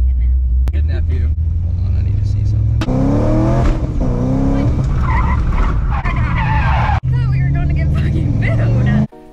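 A car drifts on the street with loud, prolonged tire screeching and revving engine, close and intense. People talk over the noise.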